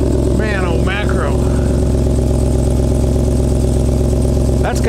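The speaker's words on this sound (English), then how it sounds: "I did the Magnaflow cat-back exhaust." A Ram Power Wagon truck idling with a Magnaflow cat-back exhaust: a loud, deep, steady engine rumble close by, with someone talking briefly over it.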